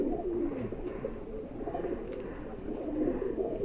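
High flyer pigeons, a Tonk hen among them, coo softly and steadily in a low, continuous murmur with no one speaking over it.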